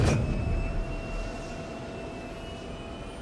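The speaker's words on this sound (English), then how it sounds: "Engines." Star Citizen spaceship engines hum in a steady tonal drone with a high whine, starting with a louder burst and then settling to an even, moderate level.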